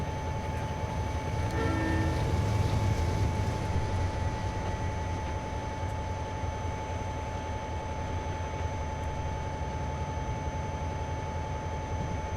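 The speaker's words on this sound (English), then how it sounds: "Hey, train coming." A train passing in a train simulator game set on the Cajon Pass climb, heard as a steady rumbling roar with a constant tonal hum throughout, continuous and fairly loud, with no talking.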